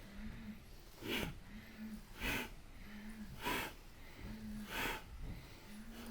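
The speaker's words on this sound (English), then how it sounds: "Exhale down, inhale up" Forceful rhythmic breathing during a relaxation exercise: loud exhales roughly every second alternating with inhales, steady and close, with a low hum underneath and no talk.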